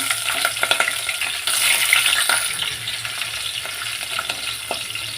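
Sliced green chillies fry in hot oil in a pan for a Telangana-style mutton curry, giving a steady close sizzle with brief stirring scrapes and a louder burst midway.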